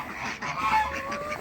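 Several geese honk together close by in a farmyard flock, short overlapping nasal calls over a steady hum, with no talking.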